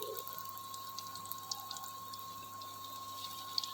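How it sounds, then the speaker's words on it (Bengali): Potato pieces fry in moderately hot mustard oil for a potato cutlet, giving a faint, steady sizzle with scattered tiny crackles and pops throughout and no voices. "আমি সর্ষের তেলেই ভাজছি"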